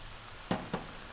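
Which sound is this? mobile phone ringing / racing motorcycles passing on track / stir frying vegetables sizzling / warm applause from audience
stir frying vegetables sizzling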